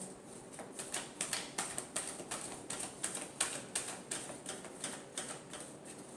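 Tarot cards are shuffled in quick, crisp bursts of riffling and tapping, close and faint, repeating irregularly with no talk.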